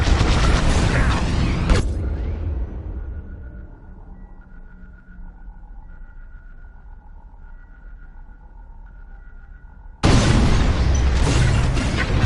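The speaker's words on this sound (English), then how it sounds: "On my mark, it's bombs away." Bombs dropping and exploding on a station in a video game, with a loud explosive blast that falls away into a long low rumbling tail, then a second heavy roar of detonation.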